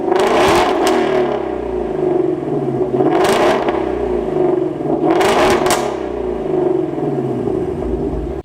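A Ford Mustang GT350R with a 5.2 liter flat plane crank V8 revs hard, its loud engine note rising and falling in repeated sweeping surges, with sharp high-pitched peaks on each climb.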